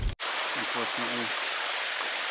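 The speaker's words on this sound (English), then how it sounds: "there's water from the mine that leaks out." Water leaking out of a mine beside the Great Allegheny Passage trail near Pittsburgh flows with a steady, close, broad rush, as a voice speaks briefly over it early on.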